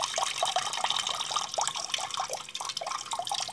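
Water draining out of an Eca Confeo Plus combi boiler, a steady close splashing trickle with fluttering drips running continuously, with no voices.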